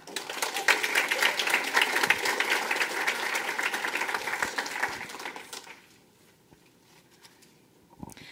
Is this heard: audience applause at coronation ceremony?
yes